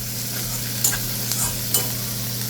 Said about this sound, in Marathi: कांदा परतत आला